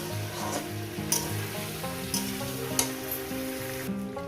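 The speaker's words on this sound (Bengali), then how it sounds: "তিন চার মিনিট ধরে আরও সবজির সঙ্গে ভেজে নেব" Mixed vegetables for shukto fry in a pan, giving a steady low sizzle with occasional stirring clicks under sustained tonal background music.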